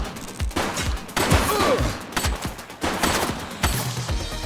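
Rapid gunfire in The Precinct police video game, loud bursts of shots in quick succession with brief gaps, close and dominant throughout.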